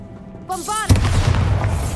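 Bombarda blasting spell in Hogwarts Legacy: a short rising magical whoosh and chime, then a loud sudden boom followed by a rolling, crackling rumble, close and alone.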